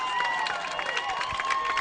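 A high school football crowd roars and cheers in a stadium after an interception, a dense, steady wash of voices and whistles from the stands.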